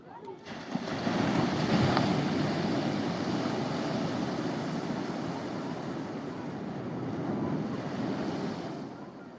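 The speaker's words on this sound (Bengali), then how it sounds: "আজকে খুবই সুন্দর ঢেউ উঠছে" Sea waves roll and break continuously along the shore, a broad rushing wash that stays loud and full throughout, blended with wind buffeting the microphone.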